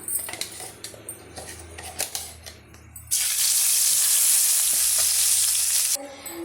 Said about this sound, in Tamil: இந்த ஸ்டேஜில் நம்ம அரைச்சி வச்சுருக்க பேஸ்ட்டை வந்து சேர்த்துக்கலாம்